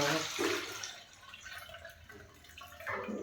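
Cloudy soaking water from millet drains off through a strainer, a trickling, splashing pour that starts strong, eases to a thin dribble and swells again at the end.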